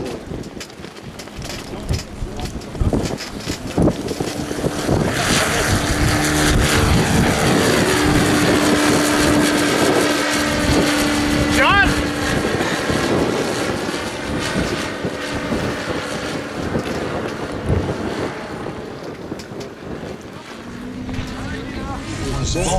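A Piper Cub light propeller airplane drones loudly and steadily throughout at an airshow, its engine tone wavering slightly, with a voice talking over the noise.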